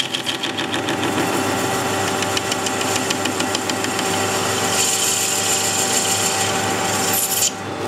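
A milling machine cuts hard steel up close, making a loud, continuous rasping grind with a rapid pulsing chatter over the motor hum. The cut runs steadily for about seven seconds, then drops off abruptly near the end.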